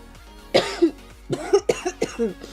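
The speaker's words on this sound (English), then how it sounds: "I say as I cough into the mic." Several harsh coughs, close to the microphone, come in a short irregular burst from someone recovering from illness, with no talking.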